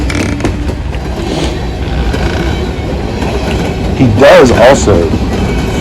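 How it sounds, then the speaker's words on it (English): CSX freight train E315 hauls SCWX hopper cars northbound past a spot in Richmond, Virginia, with a loud, steady rolling rumble and a brief wheel squeal near the end. Someone talks over the passing train. "And now we have another northbound. This was a E315 with SCWX hoppers coming from across South Kakalaka."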